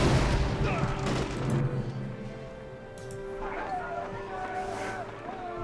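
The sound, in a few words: units opening fire in Axis & Allies video game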